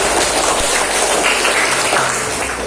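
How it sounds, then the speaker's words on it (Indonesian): Students applaud together at the close of a school physical education lesson, a dense, continuous wash of clapping filling the room at steady loudness, with no talk over it. "Oke, tepuk tangan dulu semuanya."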